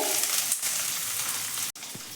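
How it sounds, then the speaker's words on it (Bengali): Chopped onion sizzles in hot oil with whole cumin seeds and a bay leaf while being stirred in a kadai for paneer, a steady close hiss with a brief break near the end. "এটা একটু নাড়িয়ে নিচ্ছি পেঁয়াজ কুচিটা দিলাম এর ভেতরে"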